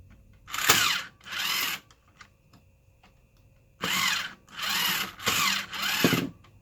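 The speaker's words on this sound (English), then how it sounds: "so the motor works" Motor of a Nerf blaster under repair spinning up in short bursts: two whirring revs, a pause with faint clicks, then four more rising-and-falling whines in quick succession, close and loud.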